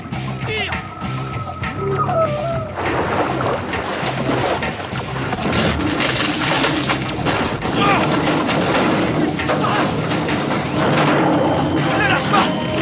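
Movie gunfire rings out in a dense, loud volley of rapid shots over water and splashing, sustained throughout, with shouting voices mixed in.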